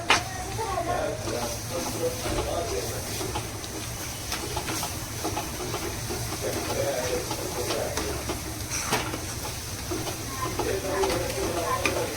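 Khoa being stirred and roasted dry without ghee in a pan while making steamed wheat-flour modak, a steady scraping and faint sizzling that runs throughout, close and continuous.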